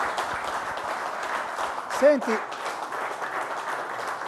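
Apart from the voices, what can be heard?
studio audience applause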